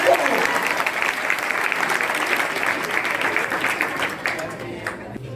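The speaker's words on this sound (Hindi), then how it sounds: "जोरदार ताली बजा दीजिए।" Classroom audience at a school cleanliness quiz event applauds loudly and steadily for about five seconds, dense clapping that tapers slightly at the end, with a voice briefly audible over it.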